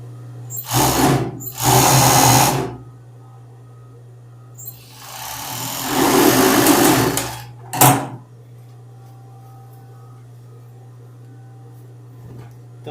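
A sewing machine stitches the leg seam of a child's pajama shorts in short loud bursts, two quick runs, a longer run, then a brief final burst, with a steady hum between and no talking.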